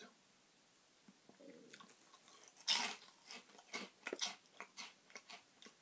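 Spicy shrimp crackers crunched and chewed close up, a run of crisp bites and chews after a quiet start, with no talking.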